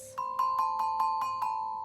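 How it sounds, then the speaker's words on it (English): A middle-pitched musical note is struck seven times in a steady rhythm, each strike ringing clearly and close with no talk. "which sound something like that"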